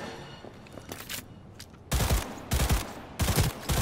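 The Skippy smart gun in Cyberpunk 2077 fires in three loud bursts of rapid shots during the second half, after quieter background game sounds and faint distant clicks.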